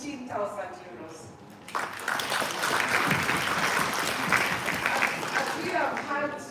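An audience bursts into sustained applause at a prize announcement, loud and even after a brief stretch of speech at the start.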